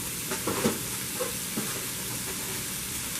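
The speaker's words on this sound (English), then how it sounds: "I'm just going to saute that down." Vegetables sauteing in rendered sausage grease for crockpot red beans, a steady soft sizzle with a few stirring scrapes, close and moderately quiet, with no voices.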